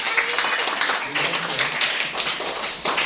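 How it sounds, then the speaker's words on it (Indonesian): A class of students applauds during a lesson on traditional dance, a dense wash of overlapping hand claps heard steadily at moderate level without a pause. "Oke, tepuk tangan."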